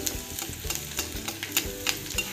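Garlic frying in hot oil in a pan for crispy chicken leg pieces, with a steady close sizzle and repeated stirring scrapes over about two seconds.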